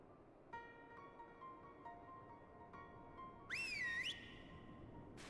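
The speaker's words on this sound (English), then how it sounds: "That was a good whistle." A video game whistle in Final Fantasy XIV rises in a bright, swooping two-note call above a soft chiming backdrop of game tones, short and clear, then fading back into the quieter ambience.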